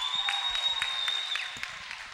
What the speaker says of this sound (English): us one last round of applause for all of our performers.